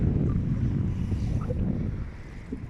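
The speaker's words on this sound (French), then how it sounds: "il y a pas mal de vent aujourd'hui" Strong wind buffeting the microphone while cycling through the harbour area of La Rochelle, a steady low roar that stays loud and continuous without pause.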